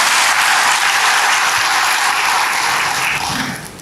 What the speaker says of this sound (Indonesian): Yang bersuka cita berikan tepuk tangan bagi Tuhan.